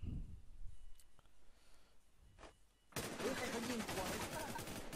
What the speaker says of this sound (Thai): เพียวยิงอะไรหลังมาร์เก็ตเนี่ย